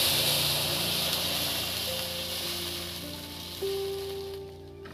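Water hissing and sizzling in a hot pan before full cream milk goes in, a steady close crackling hiss that slowly fades as it settles.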